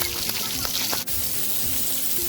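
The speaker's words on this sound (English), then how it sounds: "Wow, you got the splash pad to yourself." Hissing spray of water jets at an outdoor splash pad, a constant bright splashing wash with small bursts and patters throughout, heard up close.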